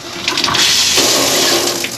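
Shower water runs steadily in a cruise ship balcony cabin bathroom aboard the Caribbean Princess, a loud, continuous rushing spray with no talking.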